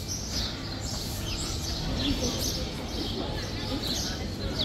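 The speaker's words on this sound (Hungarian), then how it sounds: "majdnem mindenhol madárcsicsergést hallhattunk" Birds chirp and tweet in scattered bursts over a steady outdoor hum, fairly faint, as if heard from a quiet town square in Ljubljana, Slovenia, on a weekday morning.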